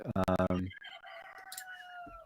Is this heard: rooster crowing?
yes